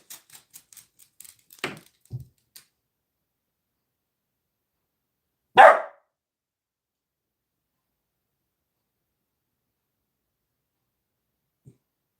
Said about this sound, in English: The way that he barked, that sounded like a bark I've never heard before